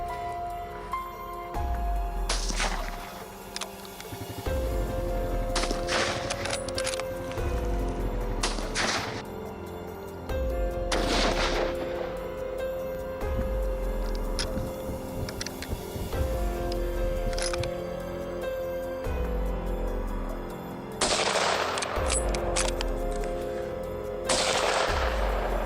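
Gunshots ring out as hunters fire on a wild boar herd attacking farmland: about a dozen sharp, loud reports, some single and some in quick pairs, spaced irregularly over steady outdoor background noise.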